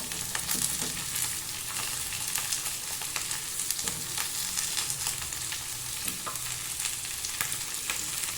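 Potato and carrot pieces sizzle and crackle steadily in hot oil in a pan, with scattered stirring scrapes and taps, the frying a continuous close hiss with no talking.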